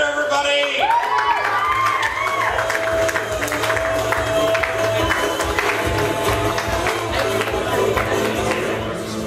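Audience at a comedy show cheering, whooping and applauding loudly for a comedian, with a host's amplified voice over the crowd at the start and a thumping music beat underneath.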